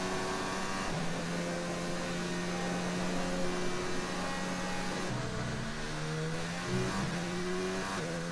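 A Formula 1 car engine screams through a qualifying lap in the F1 2019 racing game, a sustained high-pitched whine with gear-shift drops and rises, loud and continuous with no talk.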